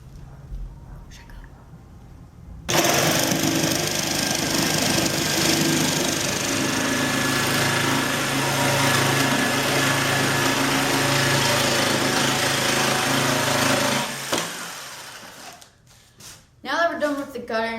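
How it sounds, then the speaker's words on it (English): Handheld jigsaw cutting a traced circle out of a board for a hovercraft: a loud, continuous buzzing whine runs for about eleven seconds after a quiet start, then stops, followed by a few clattering knocks. "use the jigsaw and cut a circle out that I traced"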